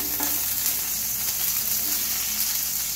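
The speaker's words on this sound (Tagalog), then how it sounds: "Mag-gisa na muna tayo ng ating bawang" Garlic sautés in a hot pan for a Filipino upo dish, giving a continuous bright sizzle with faint stirring scrapes and no speech.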